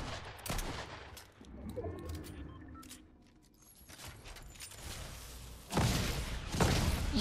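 Gunfire crackles in the survival game Rust, with bursts of rapid shots and single cracks that start and stop at close to moderate range, plus thumps and mechanical clatter in between.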